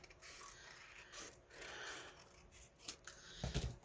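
Scissors trimming paper for a bookmark pocket, soft close snips and rustling paper with a sharper clack near the end, quiet and without talk.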